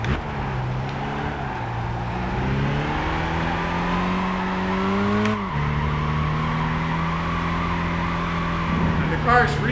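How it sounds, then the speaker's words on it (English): A race car drifts with tire squeal in Gran Turismo 5: a steady engine roar with long squealing tire slides that bend in pitch, a brief break midway, then continued drifting. A person talks throughout. "the car is really not so much spinning out. It's more like drifting its wheels."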